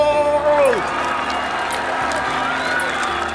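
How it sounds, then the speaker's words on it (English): A large crowd at an obstacle course race cheers and applauds loudly and steadily, with a whistle-like tone at the start and excited shouts mixed into a dense roar. "The crowd are going wild!"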